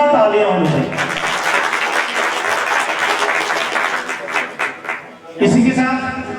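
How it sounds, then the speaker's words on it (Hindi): Loud applause and clapping from the audience at a Dhakad community talent-honour ceremony in a hostel hall, a dense sustained burst lasting several seconds with voices and chuckles mixed in before the announcer resumes. "अध्यक्ष महोदय के लिए जोरदार तालियां होनी चाहिए।"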